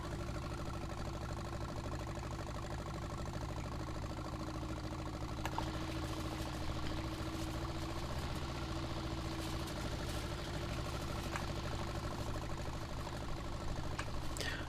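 A tractor engine idles in Farming Simulator 19, a steady mid-to-low droning hum with faint knocking that holds at an even level throughout, with no talk over it.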